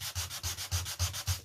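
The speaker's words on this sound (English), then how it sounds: "You can see I'm actually sanding the scrapbook paper surface." Scrapbook paper surface on foam core board being sanded by hand to distress it, about six steady rhythmic back-and-forth rasping strokes, close and fairly quiet.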